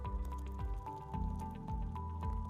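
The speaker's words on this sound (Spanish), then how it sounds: "Procedemos a tomar el agua caliente y le echamos en el envase." Hot water pours from a container into another vessel, giving a liquid trickle with a few soft drips and splashes, close and fairly quiet.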